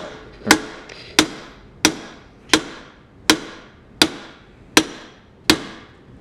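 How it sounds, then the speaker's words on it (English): Giant mallet strikes a seized steering bushing on an old tractor, eight sharp metallic blows at an even, unhurried rhythm, each ringing briefly before the next. "It is so seized on there, like we have to use this giant mallet"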